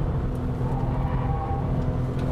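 A Porsche 996 Turbo on a slalom course gives a continuous engine and road roar, steady and fairly loud, with no speech.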